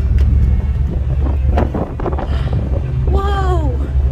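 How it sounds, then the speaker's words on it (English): Strong wind by the water in the Outer Hebrides, Scotland, buffets the microphone in a constant low rumble, with a voice speaking over it and a brief high whistling tone near the end. "It's very windy now."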